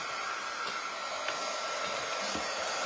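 A hair dryer blows steadily over a painted cardboard basket, a loud, constant, close whirring hum with no talk.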